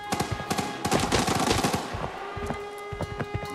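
Gunfire in the video game Arena Breakout, rapid bursts of automatic shots in quick succession, moderately loud and crackling, with no voices.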